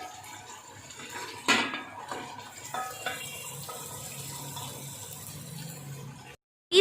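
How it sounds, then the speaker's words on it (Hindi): Cooked fish is served out of a pan with metal utensils, giving a few soft scrapes and clinks with one sharper knock, over a faint watery background that briefly cuts out near the end. "इसको करते हैं डिश आउट।"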